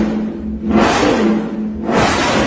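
A Yamaha R1 sport motorcycle engine revs in two loud surges, each climbing then holding, with a brief dip between them and no talk.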